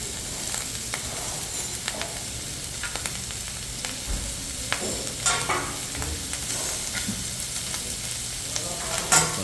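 Ginger and garlic frying in oil for fried rice, a constant close sizzle broken by irregular utensil scrapes and clicks against the pan.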